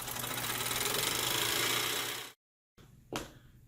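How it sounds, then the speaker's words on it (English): A small model steam engine runs with a fast, steady mechanical chugging and clatter, loud and close, then cuts out abruptly into silence before a brief faint rattle and a single sharper knock. "This model steam engine."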